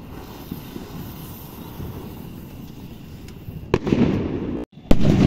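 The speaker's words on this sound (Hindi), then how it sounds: "डायमंड अनार को जला के देखते हैं" A diamond anar fountain firework hisses and crackles with a steady rushing spray, growing louder with sharp bursts near the end.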